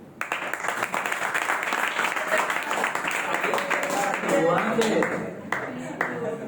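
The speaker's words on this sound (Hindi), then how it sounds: "ताली बजा।" An audience claps throughout a spiritual talk at an IYF gathering in Mira Road, steady dense applause from a crowd, fairly close and even, with a voice briefly audible over it.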